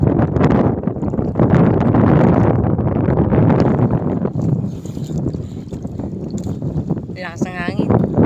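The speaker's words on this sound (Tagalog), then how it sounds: "Lakas ng hangin." Strong wind buffets the microphone aboard a small boat at sea, a loud rumbling roar that swells and eases, with voices talking over it near the end.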